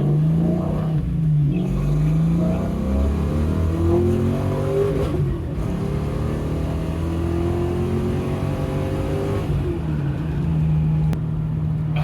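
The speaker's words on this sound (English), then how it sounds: "We'll do a full acceleration test inside the car." A Fox Body Ford Mustang V8 with FlowMaster mufflers revs up loud and close through several gear changes, its throaty exhaust note rising in pitch repeatedly with no talking.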